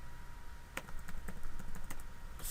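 Light clicks of typing on a computer keyboard tap out an irregular rhythm, fairly quiet and close, over a steady background hiss.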